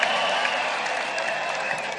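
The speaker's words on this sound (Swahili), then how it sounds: "Makofi kwangu." Crowd applause at a Kenyan political rally, steady dense clapping throughout with a murmur of voices underneath, fairly loud and continuous.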